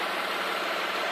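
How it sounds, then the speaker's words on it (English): A 1996 Mitsubishi Montero V6 idles steadily with a continuous, even broadband hum that holds at constant loudness, close by and with no one talking over it. "Engine's running kind of perfectly"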